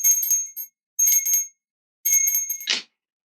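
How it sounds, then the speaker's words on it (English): A small metal bell rings three times in a quiet room, each bright, sustained ring fading before the next, followed by a short soft shimmer at the end. "I am going to ring this bell 3 times."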